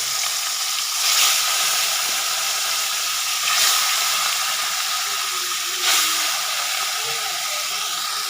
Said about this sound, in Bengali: এবার এতে আমি একে একে মাছগুলো দিয়ে দেবো ভাজতে